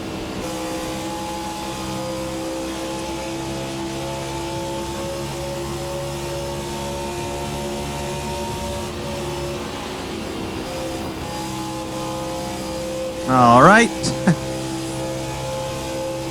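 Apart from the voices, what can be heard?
car engine driving in racing sim video game, Hyperion 2020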